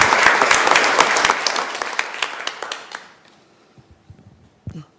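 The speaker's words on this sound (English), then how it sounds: "I'll give them a round of applause" A crowd at a school board meeting claps and applauds loudly for about three seconds, then the clapping fades into a quiet room with a few small knocks.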